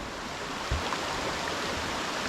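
A rising floodwater stream on a farm, carrying debris, rushes in a dense, continuous roar of flowing water, close and fairly loud, with no voices.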